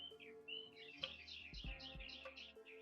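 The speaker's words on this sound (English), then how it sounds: "These birds going crazy." Birds chirp in quick repeated high trills and tweets, rapid and lively, over a quiet background with a few low thumps.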